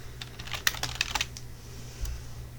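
Brief burst of quick typing on a computer keyboard, a close run of light clicks over a low hum, with one last stray tap after a pause.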